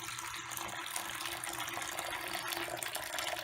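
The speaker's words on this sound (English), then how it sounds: "Pouring off that supernatant until we almost lose some solids." Supernatant liquid from a granular humic sample is poured off, making a steady close trickling and splashing wash of liquid that runs continuously without pause.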